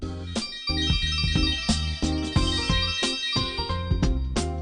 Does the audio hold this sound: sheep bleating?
no